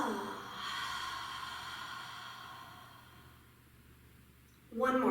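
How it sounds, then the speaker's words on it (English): A deep yoga breath: a long, soft, airy inhale that swells and then slowly tapers away over a few seconds, with a brief breathy rustle at the very end. "Take a deep inhale."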